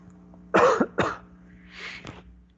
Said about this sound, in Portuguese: Espero que o microfone não captou o que eu tossi agora